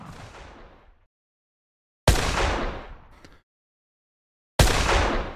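Layered medium and far gunshot sounds from an Unreal Engine Fortnite-style weapon system: three loud, sharp reports, each followed by a long fading tail and short silences between.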